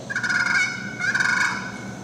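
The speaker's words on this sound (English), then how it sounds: "Now a purr is dragging across the slate." Two short, soft rolling purrs from a turkey call, each a slightly raspy trill lasting about half a second, close and clear.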